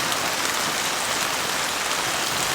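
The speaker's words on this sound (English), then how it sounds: "that rain's getting a little bit heavier" Heavy rain pours steadily on a car and tarp campsite, a dense, loud, unbroken hiss of drops close by.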